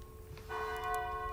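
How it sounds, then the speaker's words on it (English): A church bell rings out with a single resonant stroke that swells and hums, its tone lingering and slowly fading in a quiet setting. "The bell struck 12."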